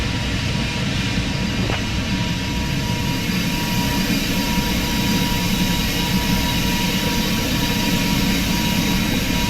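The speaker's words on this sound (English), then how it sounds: "runway 24 left, cleared for takeoff" An Air Canada Airbus A220 jet roars steadily during its takeoff run from Montreal's runway 24 left, a loud, dense engine rumble with a high whine that holds constant throughout.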